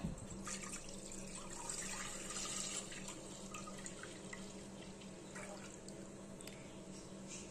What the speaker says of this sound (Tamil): இந்த குக்கர்ல 1 லிட்டர் பால் சேர்த்துக்கிறேன்.